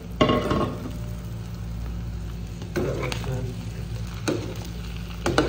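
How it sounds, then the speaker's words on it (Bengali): Shredded cabbage going into a pan of Maggi noodles, with a moderate steady frying sizzle and several soft bursts of clatter as ingredients are added and tossed. "এখন আমরা পাতাকপিটা দিয়ে দিচ্ছি।"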